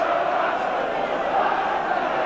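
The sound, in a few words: Ipswich football crowd cheering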